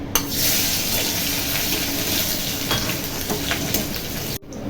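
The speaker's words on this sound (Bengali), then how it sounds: "এই যে রসুন আর লঙ্কা ফোড়ন দেবো।" Loud, continuous sizzling of garlic and chili frying in hot oil, crackling evenly with a few sharper spits, cutting off abruptly near the end.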